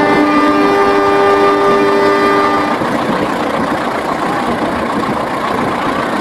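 A locomotive in the Trainz Simulator game sounds a loud, sustained horn for a few seconds, which then gives way to a steady, heavy rumble of the train running at speed.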